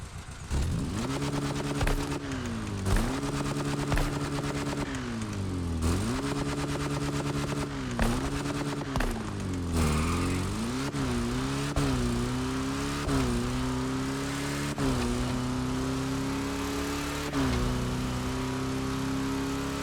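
Flat-4 engine in The Crew Motorfest, loud and steady, revving up and down in repeated swells with rising and falling pitch, then settling into a higher idle drone, with no talk over it.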